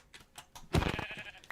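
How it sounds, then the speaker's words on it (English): Sheep in the video game Minecraft bleat a few times in quick succession, short wavering cries standing clearly above faint clicking and quiet background sounds. "Oh, here's 2 sheep."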